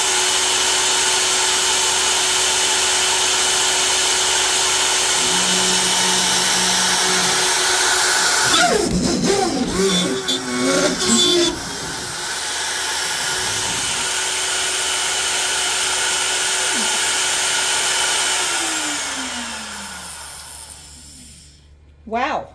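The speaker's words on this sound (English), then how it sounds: "200 inches a minute at the 3/4 of an inch depth." CNC router spinning at 25,000 RPM and cutting 3/4 inch deep at 200 inches a minute, a loud steady high whine with a burst of harsh cutting in the middle that then winds down.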